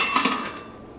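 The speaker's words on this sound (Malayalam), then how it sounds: "ഇതിലേക്ക് 3 ക്യൂബ്സ് ഐസ് ചേർക്കാം." Three ice cubes drop into a mixer jar for iced coffee, making a couple of quick, close clinks and knocks that fade within a second.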